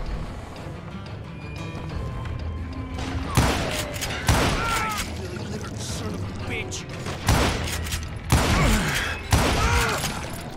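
Gunshots in the Western game Call of Juarez Gunslinger ring out as several loud, separate cracks spaced a second or two apart over low ambient rumble, with a voice speaking in between.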